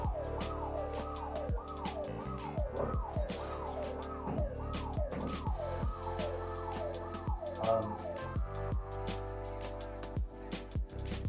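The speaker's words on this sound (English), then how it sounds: "I don't know what that siren was." A wailing emergency siren cycles up and down repeatedly, fairly distant and muffled, with scattered clicks and knocks from nearby throughout.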